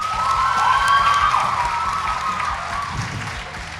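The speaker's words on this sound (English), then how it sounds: "Let's applaud them." Audience at a school debate finale between Nyeri High School and Moi Forces Academy Lanet applauds and cheers the debaters, a steady, loud crowd roar with clapping and shouts that eases slightly toward the end.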